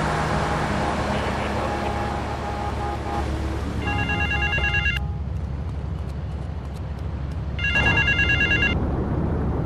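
A payphone rings in Grand Theft Auto III: two bursts of an electronic bell, one in the middle and another near the end, heard over a steady wash of city traffic and engine noise.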